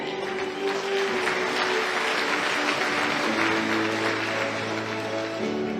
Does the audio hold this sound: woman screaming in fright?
no